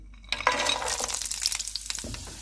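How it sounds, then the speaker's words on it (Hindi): Almonds and cashews fry in hot oil in a pan, with a steady close sizzle and light stirring clinks starting after a brief quiet moment and continuing to the end. "अब हम बादाम और काजू को फ्राई कर लेते हैं।"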